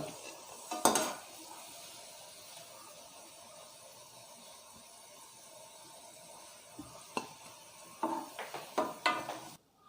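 Banana fritters (pazham pori) frying in hot oil with a low steady sizzle, broken by sharp clinks and scrapes of a utensil against the pan as pieces are lifted onto a plate, busier near the end.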